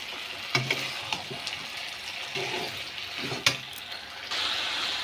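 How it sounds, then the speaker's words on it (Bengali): Fish head and okra curry being stir-fried in a pan with a splash of water, a steady close sizzle broken by several sharp scraping clicks of the spoon against the pan. "এবার আমরা ভালোভাবে আবারও কষবো।"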